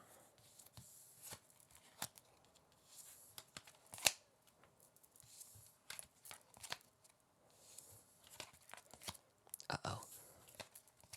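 A Lord of the Rings Magic: The Gathering Commander deck's opening hand is drawn up close, with soft card slides, snaps and papery flicks in irregular bursts, some sharper clicks among them.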